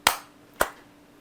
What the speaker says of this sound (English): Let's do our sync clap